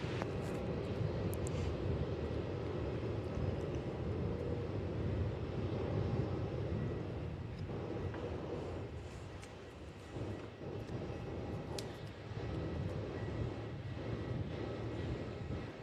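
A Cathay Pacific Airbus A350 takes off at Melbourne Airport, a steady broadband engine roar heard from a distance that holds level throughout and eases slightly toward the end.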